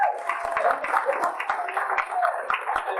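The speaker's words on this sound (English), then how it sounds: "So can we give a round of applause for them?" An audience at a live event gives a round of applause, scattered claps forming a modest, moderately close patter with a faint murmur of voices underneath.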